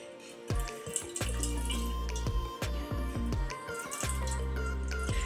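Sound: whey water draining from tied cloth bundle of curd

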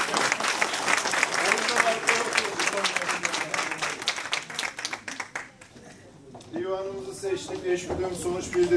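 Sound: applause

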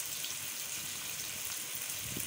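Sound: water poured into spiced cauliflower curry masala

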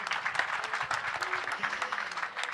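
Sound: audience applause

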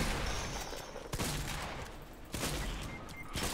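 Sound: gunfire in the video game Fortnite

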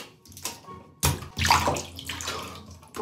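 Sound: water filling a bathtub

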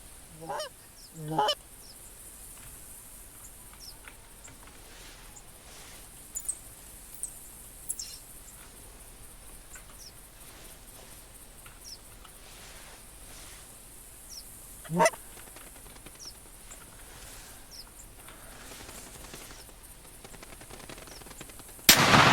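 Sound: geese honking in a video game

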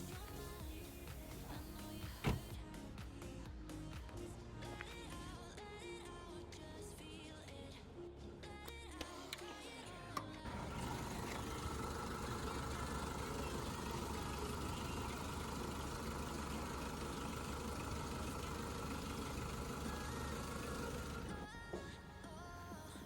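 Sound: Renault Megane 2 2007 2.0 petrol engine idling, hood open

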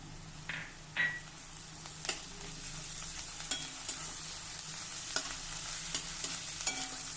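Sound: sautéing onion with crushed garlic in a pan

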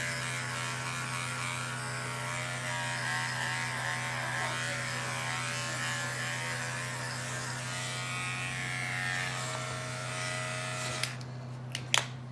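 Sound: electric clippers shaving a dog's fur

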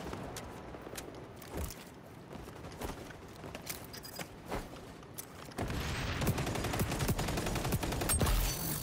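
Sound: ACR rifle gunfire in the video game XDefiant

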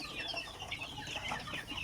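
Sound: hens clucking in a chicken coop

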